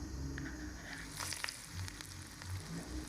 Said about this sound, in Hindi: अब हम फ्राई का अमल शुरू कर लेते हैं।